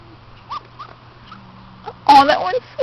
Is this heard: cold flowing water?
no